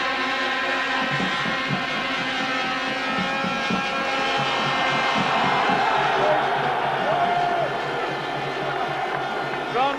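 Stadium crowd at a 1988 American football game between Manchester Allstars and London Ravens at the Budweiser Bowl, a steady loud roar throughout with a commentator talking over it.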